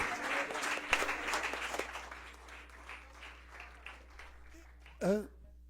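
A church congregation claps during a worship service, loud at first and then thinning into scattered claps that fade out, before a voice speaks briefly near the end.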